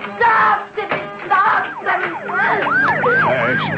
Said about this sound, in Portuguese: Está chegando a ambulância que eu pedi.